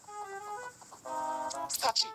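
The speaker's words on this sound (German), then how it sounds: "Ich helfe dir beim Niesen." A Mii character sneezes in the Tomodachi Life video game: synthetic, sing-song vocal tones build up, then a short, bright sneeze burst near the end.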